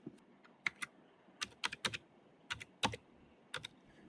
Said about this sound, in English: Now type the new name you want for the folder.